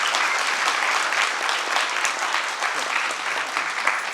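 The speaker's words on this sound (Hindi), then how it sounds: "तालियों से थोड़ा एक बार बता दीजिए।" Theatre audience at a comedy drama festival in Bhopal breaks into sustained, dense applause, steady and fairly loud from start to finish with no voices on top.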